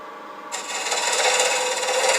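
A spindle gouge bites into a spinning boxwood blank on a lathe, starting abruptly after a brief quiet moment and continuing as a loud, steady, hissing scrape close by.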